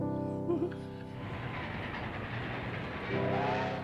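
A train runs on rails, a steady rolling rumble and clatter that swells in the middle, with low tonal hum and a faint whistle-like tone near the start and end.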